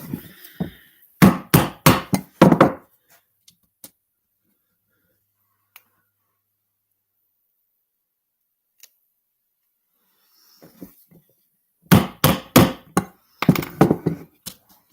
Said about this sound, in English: Not that often that the Lego hobby involves using a hammer.